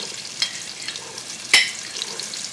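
Vegetables sauté in hot bacon fat in a pot for potato and bacon soup, a steady high hiss of frying with a couple of sharp scraping stirs, close and moderately loud with no talk.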